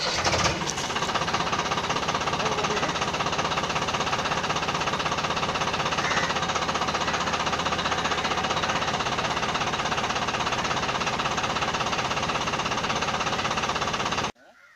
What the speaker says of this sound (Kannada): ಇನ್ನೊಂದು ಸಾರಿ ಟ್ರ್ಯಾಕ್ಟರ್ನ ಸ್ಟಾರ್ಟ್ ಮಾಡ್ತಾನೆ